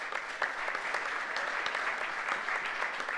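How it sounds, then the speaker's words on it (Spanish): A conference audience claps steadily, a dense patter of applause that stays even throughout. "démosle también un aplauso de felicitaciones"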